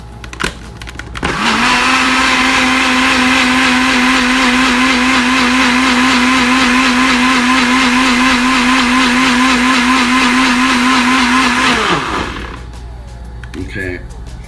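A bullet blender whirs steadily while mixing waffle batter, starting abruptly, holding a loud even motor drone for about ten seconds, then spinning down, with a few clicks and a brief voice afterward.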